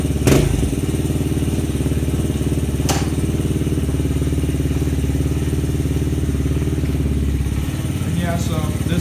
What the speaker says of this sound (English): how you start this bike, turn the key on, turn the gas on